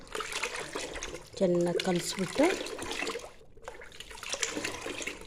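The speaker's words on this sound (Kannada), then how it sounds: "ಒಂದು ಬಿಂದಿಗೆ ನೀರು ಹಾಕ್ಕೊಂಡಿದ್ದೀನಿ" A pot of water splashes and trickles into a large plastic bucket to make homemade fertilizer from groundnut cake, coconut cake and sour buttermilk. The pouring is close and moderately loud under a person speaking.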